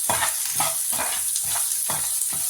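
Coconut and lentils with salt being stirred and sautéed in a pan, a steady sizzle with a regular scraping stir repeating about every half second, close and alone.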